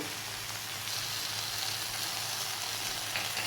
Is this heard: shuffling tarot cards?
no